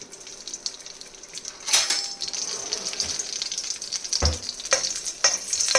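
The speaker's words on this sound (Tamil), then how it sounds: "கொஞ்சமாக எண்ணெயை விட்டு வதக்கிடுவோம்." Green chillies and ridge gourd sauté in a little oil with a bright, continuous hiss, swelling as the pan is stirred, and a few sharper clicks and knocks near the end; nobody speaks.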